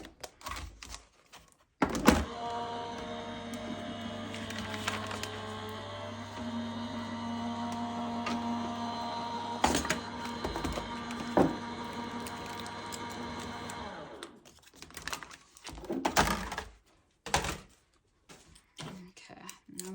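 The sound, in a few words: cutting machine cutting a layer of crystal white card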